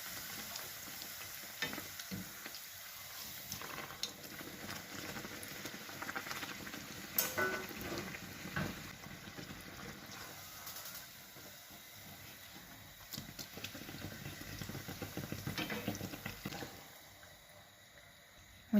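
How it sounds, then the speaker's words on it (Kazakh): Soft, continuous sizzle of shelpek flatbread frying in hot oil, with faint crackles and occasional light stirring or scraping sounds, no talking. "Майымызды қатты қыздырып алып, шелпектерімізді саламыз."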